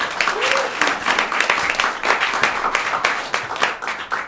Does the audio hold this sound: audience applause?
yes